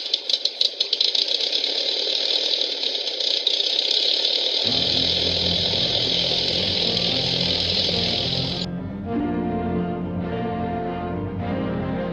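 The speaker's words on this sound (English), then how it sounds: "We're ready to start engines now." Aircraft engines start up on an airstrip, a high steady whine building before a deep rumbling roll kicks in and settles into a loud, rattling run.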